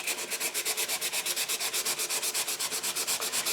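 Sandpaper of 150 grit rubbed back and forth over a guitar body, a steady rhythmic scratching of roughly eight strokes per second, close and alone with no voices.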